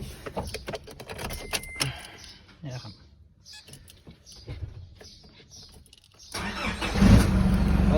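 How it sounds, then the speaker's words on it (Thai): A car engine cranks and catches after the engine-bay wiring is installed, rising to a loud steady idle near the end after quieter clicks and handling noises, with a voice talking early on. "มาสตาร์ทดูนะครับ"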